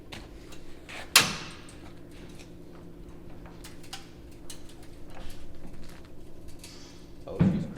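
A Nissan Sentra is raised on a floor jack with a sharp pop at the start, then a run of repetitive ticking creaks from the jack and car body, ending in another louder clunk.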